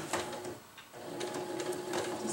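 A sewing machine stitches a straight border along the edge of a tarp, its rapid needle clatter running up close, pausing briefly near the start, then resuming steadily.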